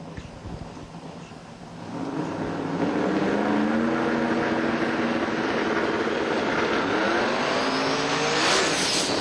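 A drag racing car makes a loud, sustained run down the track at a spring race event, its roaring engine building over the first couple of seconds and then holding steady and close for the rest of the clip.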